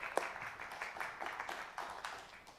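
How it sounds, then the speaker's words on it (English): Scattered hand clapping from a church congregation, moderately distant, with irregular claps rising and thinning over a couple of seconds. "Round of applause for Victoria."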